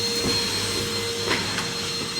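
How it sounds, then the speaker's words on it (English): A Hoover vacuum cleaner runs in a hotel corridor, a steady whining drone with a constant motor tone, heard close and unbroken for a couple of seconds. "Passing Hoover."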